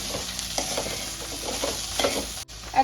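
Okra (bhendi) frying in a pan for a dry bhaji, a steady close sizzle with intermittent stirring scrapes, no talking, and a brief dropout near the end.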